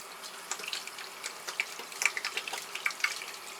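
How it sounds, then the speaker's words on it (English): Hands rinsed under running tap water after applying a gel pomade, with soft splashing and trickling in uneven bursts, faint and close, with no voices. "Literally, you just take a little bit of water,"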